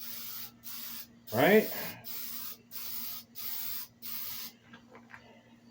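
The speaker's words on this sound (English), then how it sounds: "If your fingers get tired when you're spray painting, leave a comment below." A spray paint can hisses in a series of short, evenly spaced bursts while coating a metal fire ring, close and moderately loud, with a brief spoken word between sprays.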